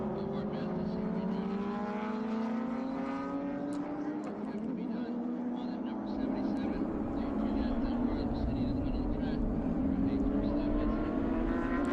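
Race cars on an oval at the Atlanta SpeedTour roar together at a race start, a loud continuous engine drone with rising pitch sweeps as the field accelerates, with commentators talking over it.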